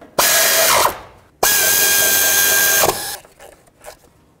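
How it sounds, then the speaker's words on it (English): Two long bursts from a power ratchet or impact tool snug up engine bolts on a 1999-2003 Toyota Solara during a timing belt and water pump job, loud and close, with a brief pause between them and faint clicks after. "I'm going to snug them all up"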